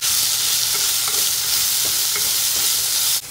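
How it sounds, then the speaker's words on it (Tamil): Onion, curry leaves and chillies sautéing in a pan for a Sunday lunch salna, giving a steady loud sizzle with a few scrape-like stirring strokes and no voices. "இதில் ஒரு பெரிய வெங்காயம், ஒரு 5 கருவேப்பிலை வச்சுருக்கிறேன், இதையும் போட்டு நல்லா வணக்கி விட்டுறலாம்"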